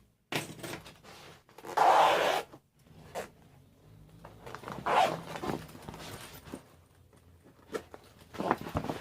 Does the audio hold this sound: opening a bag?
yes